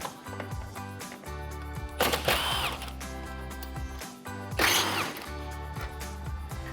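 A power tool whirs on the 10mm headlight bolts of a 2014-2015 Chevrolet Silverado 1500, steady mechanical running with two louder ratcheting bursts near the midpoint and end, close up and without speech.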